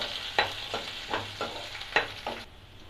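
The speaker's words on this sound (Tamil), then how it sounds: "வெங்காயம் சேர்த்துக்கிறேன். வெங்காயம் நல்லா வதங்கணும்." Onions fry in a pan for rava kichadi, with a steady sizzle under a series of scraping stirs roughly every half second, fairly close and moderately loud, with no talking.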